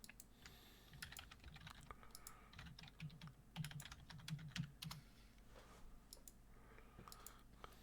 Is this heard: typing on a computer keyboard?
yes